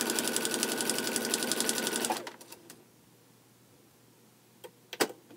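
A sewing machine stitches a Paradox Point quilt block, its close, steady whirring run lasting about two seconds before stopping, followed by a few sharp clicks and faint taps in near silence.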